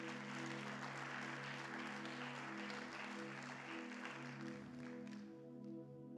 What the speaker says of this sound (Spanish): Dale más fuerte ese aplauso al Señor